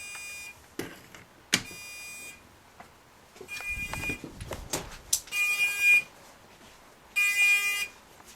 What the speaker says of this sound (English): the panel beeps now. It's got a buzzer